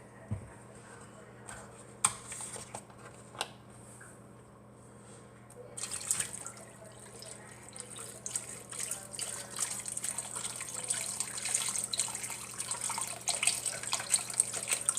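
Chicken broth is poured into a pot on high heat while cooking a Thanksgiving meal. Scattered drips and clicks give way to a steadier, louder trickling pour in the second half, heard close by.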